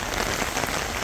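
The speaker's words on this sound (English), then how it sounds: "This is like one of the harder rains today." Heavy rain falls on dragon fruit plants in a steady, dense hiss of drops pattering close and loud on leaves and stems, with no voices.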